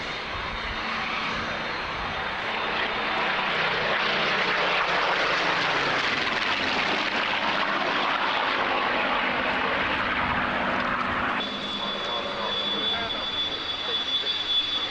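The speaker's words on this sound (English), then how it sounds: "It's a good time to compare the two different engines used to power the Spitfire." Supermarine Spitfires, one silver with a Griffon engine and one camouflaged with a Merlin, fly past at an air display, their loud engine roar swelling and holding steady for about fifteen seconds before easing slightly.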